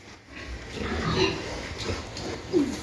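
A farm pig grunts and snorts close by, a few short, rough grunts over low shuffling noise, with a couple of louder squealy grunts standing out toward the middle and end.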